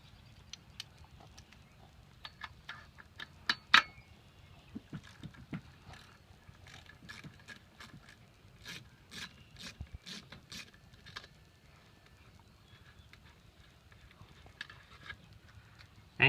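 Ratchet wrench with an 8mm deep well socket turning a fastener while removing a weed trimmer carburetor, quick faint clicking bursts scattered across the clip with a few sharper ticks, close up and quiet.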